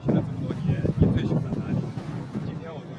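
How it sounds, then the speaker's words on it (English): Strong gusts blow at the cape, buffeting the microphone in rough, rumbling bursts that rise and fall for a few seconds. "The wind here is insane."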